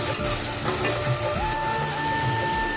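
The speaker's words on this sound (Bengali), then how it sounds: "এইটাকে ভালো করে একটু নেড়ে দেবো, আমি ডালটাকেও একটু হালকা ভেজে দেবো।" Lentils fry with taro in a pan, a dense continuous sizzle loud and close, with stirring scrapes moving through it and no voices.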